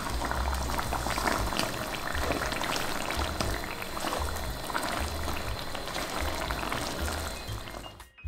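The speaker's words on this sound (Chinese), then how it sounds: "用中小火不断翻炒" Red bean paste stir-fried in corn oil over medium-low heat for mooncake filling, a continuous dense bubbling and sizzling texture with a low rumble, steady throughout before cutting off abruptly at the end.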